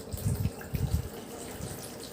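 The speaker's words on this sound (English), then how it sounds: "water coming out from each of the hole is of same pressure" Water streams out of several holes in a container in a school fluid-pressure experiment, splashing and gushing in a few irregular surges close by, with no talk.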